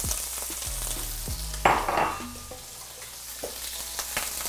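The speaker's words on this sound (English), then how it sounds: "Here we have our shrimp, hot pan, a little bit of oil," Shrimp hitting a hot pan with a little oil give a sudden loud sizzle partway through that fades into a steady frying hiss, with some stirring and clinks and no talk.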